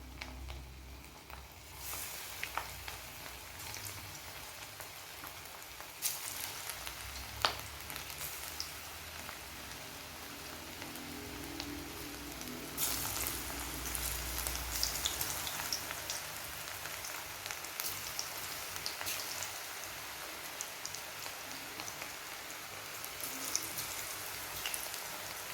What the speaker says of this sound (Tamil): ஆயில் நல்லா ஹீட் ஆனதுக்கப்புறமா நம்ம ஊற வச்சுருந்த காலிஃப்ளவரெல்லாம் ஒன்று ஒன்றா